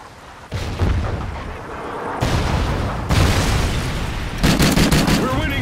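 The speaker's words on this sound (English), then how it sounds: "Friendly Trinity rocket inbound." Heavy booming blasts and crackling gunfire in Call of Duty: Ghosts as a Trinity rocket strike hits, with repeated loud explosions rolling one after another and dense battle noise throughout.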